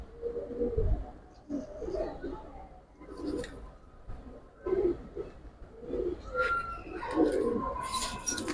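Giribaz pigeons coo in low, throaty repeated phrases close by, alongside some higher chirps and rustling, with someone talking over them intermittently.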